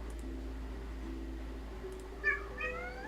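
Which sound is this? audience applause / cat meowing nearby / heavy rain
cat meowing nearby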